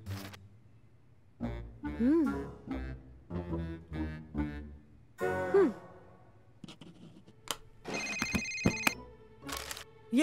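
A telephone rings in a quiet library, its electronic ringtone bursting out in a short, loud stretch of repeated tones near the end, following murmured talk and sighs nearby.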